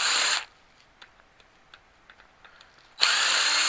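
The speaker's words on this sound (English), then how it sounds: "If you can get the screw gun on the screws" A cordless screw gun removes screws from a microwave: a loud short whir, a pause filled with faint clicks and ticks, then a second loud whir starting up.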